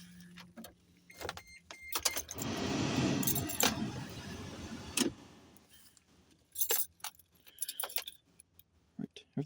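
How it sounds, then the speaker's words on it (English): Keys jangle in the ignition of a 1996-2001 Daihatsu Midget II, several close metallic rattles and clicks in brief bursts, with a longer rumbling stretch in between and a voice nearby. "Turn the keys."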